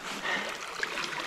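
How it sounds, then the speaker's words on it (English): Creek water pours steadily through a broken beaver dam, a continuous rushing trickle with small splashes, close and even throughout. "So I guess all of that water is just constantly flowing through here."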